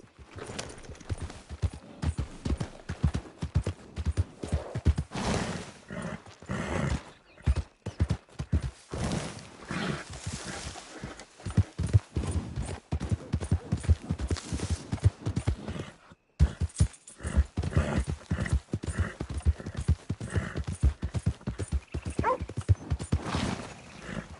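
Horse hooves clip-clop in a steady, continuous rhythm in the video game Red Dead Redemption 2, loud and close throughout with brief pauses in the gait.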